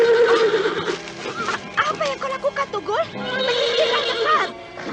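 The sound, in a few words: horse neighing loudly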